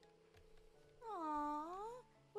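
A single clear, drawn-out cat meow from the Trails of Cold Steel game, rising then falling over about a second, set against quiet background music.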